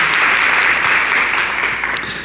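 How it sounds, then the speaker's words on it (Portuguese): Church congregation applauding in a dense, steady burst of clapping that fades slightly toward the end. "Você pode aplaudir a Deus pela vida do pastor Davi Lago"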